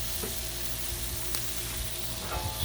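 Sliced sausage dusted with Cajun seasoning sizzles and crackles steadily on a Blackstone griddle, a loud, close, continuous frying hiss with faint scraping stirs and no talk.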